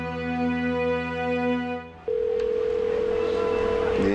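A sustained electronic telephone tone sounds after a brief stretch of humming music, holding a single steady pitch like an unanswered call.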